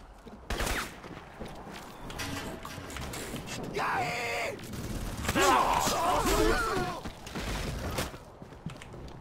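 Gunfire from the shooter game Crysis: Warhead, with bursts of rapid shots and mechanical clatter mixed with game effects across a busy, continuous soundscape.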